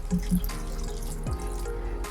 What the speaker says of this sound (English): Now I'll add about half a cup of water to the gravy.